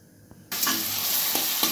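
Onion paste dropped into hot oil in a kadai bursts into a loud, sudden sizzle that holds steady and close, with a few faint utensil taps underneath.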